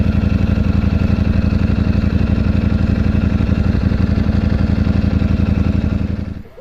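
A Ducati Streetfighter motorcycle engine idles close by with a steady, loud, rapid pulsing throb and slight clatter, holding even for several seconds before cutting off abruptly at the end.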